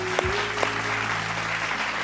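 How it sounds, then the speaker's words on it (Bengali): Studio audience applause on a Bengali family game show: steady, dense clapping from a large crowd, loud and sustained throughout with no break. "জোরে হাততালি ওর জন্য"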